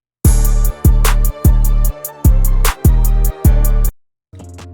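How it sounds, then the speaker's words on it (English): Short, punchy 808 bass notes bounce in a choppy staccato pattern, each cut off before the next, over crisp hi-hats and snappy drums in a trap beat. "So for the 808, I want to have it be like very bouncy"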